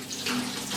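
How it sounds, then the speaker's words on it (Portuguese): Tap water running into a bowl to soak produce, a short steady splashing stream, close and fairly loud, with no speech. "Coloca de molho na água comum"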